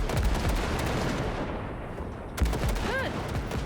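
Gunfire in the video game Cyberpunk 2077 blasts at wrecks, with a dense burst of shots at the start and another sharp burst partway through, loud and close.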